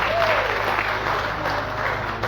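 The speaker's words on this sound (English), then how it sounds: "Clap for him." Audience clapping for a senior guest at a State House speech, a brief, even burst of many hands with a voice faintly audible beneath.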